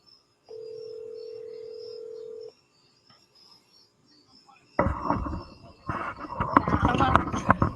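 Phone call being placed: a steady dial tone for about two seconds, a short quiet gap, then loud noisy crackling and voices on the line.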